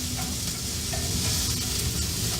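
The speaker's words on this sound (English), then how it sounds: "that sizzle sounds amazing" Pork chops sizzle in a frying pan with a bright, constant crackling hiss, close and loud, alongside occasional stirring or spoon sounds.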